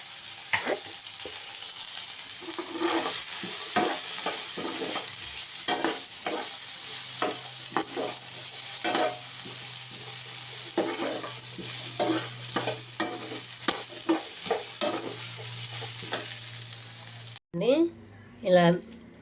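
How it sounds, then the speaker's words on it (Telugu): Cashews and onions fry in a pan with a continuous close sizzle, broken by repeated spoon scrapes and stirs. Someone talks over it, and the frying cuts off near the end before a few louder knocks. "కొన్ని క్యాష్యూస్, ఆనియన్స్ వేసి వేపిస్తున్నాను."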